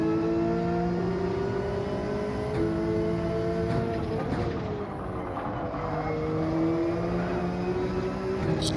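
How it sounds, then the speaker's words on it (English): A Subaru BRZ trailing close behind in a racing video game, its engine whining in a steady, sustained tone that swells and dips slightly as it holds pace, continuous and fairly loud. "I can hear that BRZ behind me"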